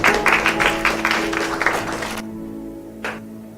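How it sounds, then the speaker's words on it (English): Church audience applause, a burst of close rhythmic clapping that swells and then cuts off abruptly, followed by near silence and one last stray clap. "Give this man applause."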